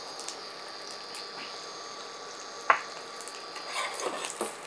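Four or five hand-crushed garlic cloves fry in a pan for a low-calorie curry, giving a faint, steady sizzle broken by one sharp utensil clack midway and a slightly busier stir near the end, with no talking.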